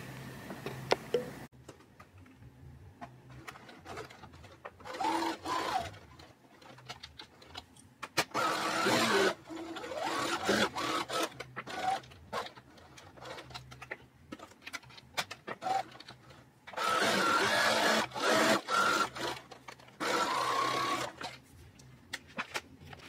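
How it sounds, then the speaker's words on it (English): A sewing machine stitching ribbon onto a fabric scrunchie runs in bursts of mechanical whirring and rapid clatter, starting and stopping repeatedly with quiet pauses between runs. "So let's go to the sewing machine right now and sew this."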